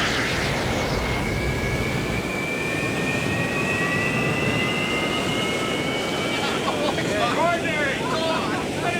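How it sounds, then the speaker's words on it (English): Jet aircraft engine with afterburner roaring steadily, a loud continuous rushing blast with a rising whine, while a voice speaks briefly over it near the end. "Get the afterburner."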